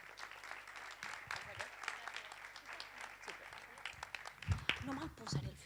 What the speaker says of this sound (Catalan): Un aplaudiment per la...